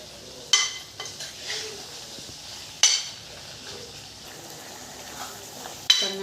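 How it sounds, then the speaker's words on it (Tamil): Soft, steady sizzling of masala sautéing in a pan for mushroom gravy, with occasional scraping and clinking of a spoon stirring, no talking. "இந்த மசாலாவிலேயே ஒரு 2 நிமிஷம் நல்லா வதக்கிக்கலாம்."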